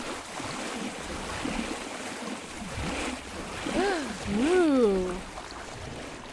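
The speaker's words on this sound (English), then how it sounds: "It's just me swimming." Swimming through water in the video game Pools: a steady wash of splashing and sloshing water runs throughout, while a voice makes a drawn-out, rising and falling exclamation near the end.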